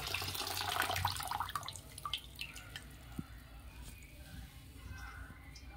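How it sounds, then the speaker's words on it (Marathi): Chopped fenugreek leaves are squeezed by hand out of water, giving wet dripping and trickling splashes that are loudest at first, then a few scattered drips and soft handling noises. "मेथी छान पाण्यातून काढून हाताने अशी पिळून घेऊ"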